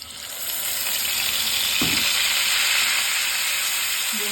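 Malabar spinach is tipped into a spice paste of ginger in a hot kadai for a prawn curry, bringing a steady close sizzle of frying with a brief clatter of stirring partway through.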